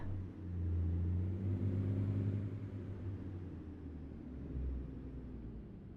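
A heavy truck engine in the driving game American Truck Simulator hums and rumbles at low pitch, steady with slight swells as it pulls along, and no voices over it.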